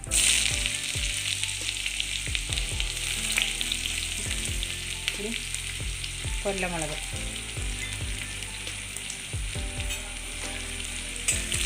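Crushed garlic and ginger fry loudly in hot oil with popped mustard seeds, a continuous close sizzle broken by stirring scrapes, while a voice speaks briefly over it.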